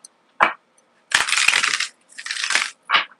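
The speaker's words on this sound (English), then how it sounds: "Let's get a shuffle on this one here." Tarot cards shuffled by hand, with a short card snap, two longer riffling bursts and a final crisp flick, close and loud with silence between.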